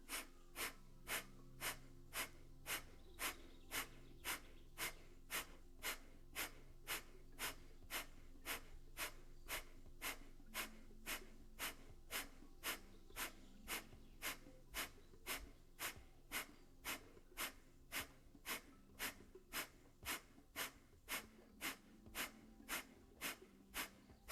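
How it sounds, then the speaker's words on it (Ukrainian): Kapalabhati yoga breathing: a long run of sharp, forceful nasal exhales at a steady, quick rhythm, roughly one to two per second, close and clear with no talking over it. "І з видихом капалабхаті в комфортному для вас ритмі без рахунку."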